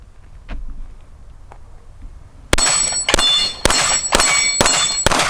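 Sig Sauer P320 M17 pistol with a red dot sight fires six rapid shots at a steel target, each sharp crack followed by a bright metallic ring, after a quiet outdoor lull.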